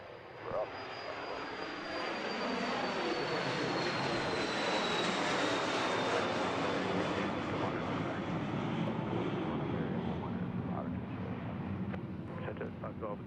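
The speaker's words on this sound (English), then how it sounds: "We have another takeoff for you." A jet airliner takes off at Dallas Love Field with a loud, steady engine roar that swells and holds. Air traffic control radio talk runs underneath.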